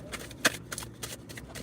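An oracle card deck is shuffled close up in a quiet room during a morning card reading, a brief riffle with one sharp papery burst and soft rustling around it.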